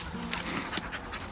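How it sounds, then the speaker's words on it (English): A hunting dog on a rabbit hunt pants in quick, close breaths and strains at a voiceless, breathy bark. "Poor dog trying to bark with no voice."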